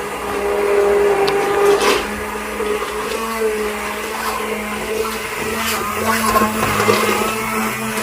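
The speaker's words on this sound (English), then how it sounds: "and the potato and everything we put here with some soup, we blend it." An electric blender purees soup with potato and spices, running loud and steady for the whole stretch with a whirring, grinding tone.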